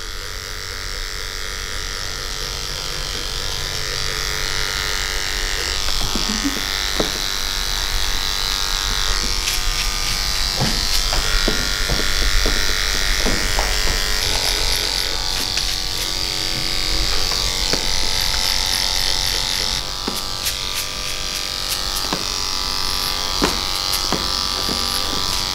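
Andis LI cordless hair clippers fading hair in a taper fade, a close, continuous electric buzz with small shifts as the blades move through the hair.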